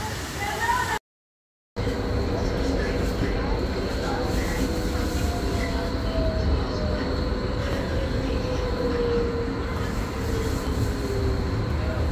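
A tram rumbles past with steady rolling noise and a faint rising squeal, broken by a brief dropout early on.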